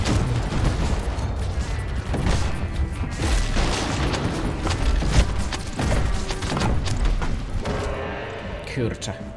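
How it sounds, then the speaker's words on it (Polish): Bombs go off in Plants vs. Zombies: Battle for Neighborville, a dense, continuous run of booms and crashes mixed with gunfire and game noise, loud and layered throughout. "wtedy zaczynają te bomby po prostu wybuchać"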